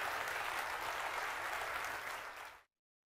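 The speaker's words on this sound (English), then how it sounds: "let's give Chris and everyone who helped to create the development package to keep this investment here in the county a big round of applause" Loud, dense applause from an audience at the 2022 State of the County Address fills the hall steadily, then stops abruptly near the end.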